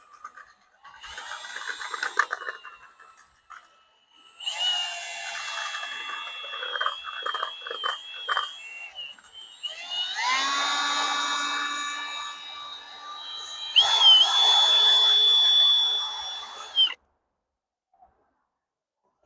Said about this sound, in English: When you've got a drill and some cable ties